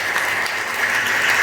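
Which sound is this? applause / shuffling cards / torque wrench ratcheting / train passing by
applause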